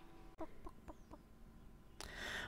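Chicken clucking in the video game Dungeons and Chickens: a few short, evenly spaced clucks, fairly quiet, followed by a burst of louder noise near the end.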